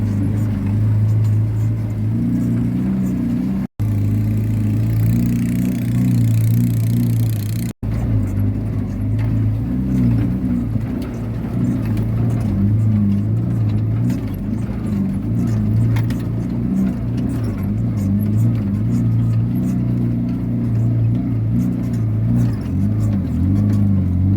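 Sand trucks at a river sand quarry below a mountain, a continuous loud diesel rumble with engines droning and rising in pitch now and then, broken by two very brief cuts.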